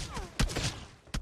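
Gunfire in the mobile game PUBG Mobile during a headshot knock with a VSS rifle, heard as two short, punchy shot bursts separated by a brief gap, moderately loud.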